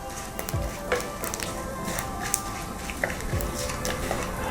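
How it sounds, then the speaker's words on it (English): Whole cloves, green cardamom, cinnamon sticks and bay leaf sauté on a slow flame, a steady soft sizzle with occasional small pops and stirring scrapes, close and moderate in level. "I will saute the spices for 2 to 3 minutes on a slow flame"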